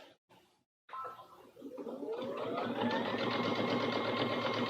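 Sewing machine stitching layered quilt fabrics and batting with a MuVit walking foot, starting after a brief pause and settling into a steady, close, continuous whirring hum.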